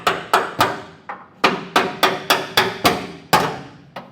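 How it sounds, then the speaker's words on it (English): A hammer lightly tapping a part of a B&W Companion 5th wheel trailer hitch underbed kit into place: about eleven sharp metallic strikes in an irregular rhythm, close and fairly loud, each ringing briefly before the next. "kind of tap it with the hammer"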